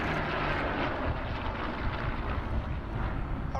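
Continuous rumbling drone of a Hawker Hurricane WWII fighter's engine flying at the Wings Over Illawarra airshow, steady and fairly loud, with no voices.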